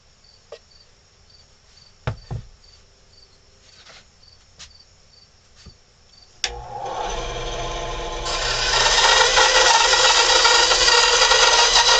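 Wood for a ventriloquist dummy's mouth is cut in a clamp: after quiet handling taps and clicks, a loud steady rasping cut starts at about six and a half seconds and grows harsher and louder, continuing to the end.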